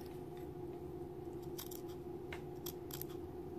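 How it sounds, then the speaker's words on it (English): Thread snips cutting linen fabric by hand along a pulled-thread line, a few quick sharp snips in short clusters over a steady background hum. "I'm just using my thread snips because it's so easy to keep it straight right there"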